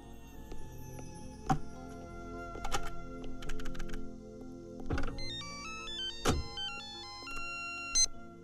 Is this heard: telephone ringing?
yes